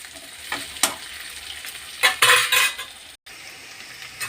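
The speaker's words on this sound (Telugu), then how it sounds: "ఇలా ముక్కలు అన్నీ వేసుకొని సన్నని సగపైన ఫ్రై చేసుకుందాం." Bitter gourd pieces frying in a pan on a low flame for pickle, with a soft steady sizzle broken by several loud scraping strokes and metal clinks of a spoon stirring, no voices.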